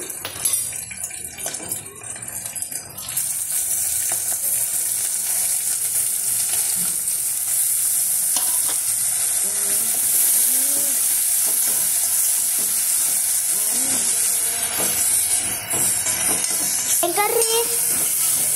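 Tomato and coriander sizzle in a hot pan for beetroot rasam, a continuous frying hiss with occasional stirring scrapes and faint background voices.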